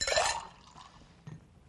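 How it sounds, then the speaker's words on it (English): Ice water is dumped out of a chilled cocktail glass: a brief close clink and splash of ice and liquid up front, fading quickly, followed by one small knock of glass moments later. "dump out your ice water"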